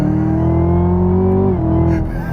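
A 2017/2018 Chevrolet Camaro ZL1 in track mode revs and accelerates with a deep, steady V8 drone that climbs and then drops back, loud and close, with no talk over it.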